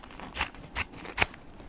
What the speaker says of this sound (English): So I'll cut it off down here.